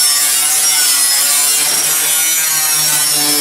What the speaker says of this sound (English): we're gonna cut out the bottom of the inside wheel well on both sides